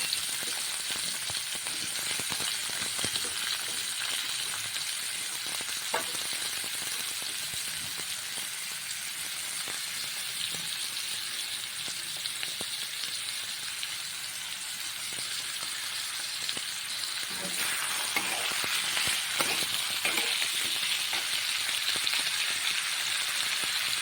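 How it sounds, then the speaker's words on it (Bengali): Potatoes with salt and turmeric fry in oil with a steady, even sizzle that crackles on without pause, close by and moderately loud. "আলুটা নুন হলুদ দিয়ে খুব সুন্দর করে ভালো করে ভেজে নেব"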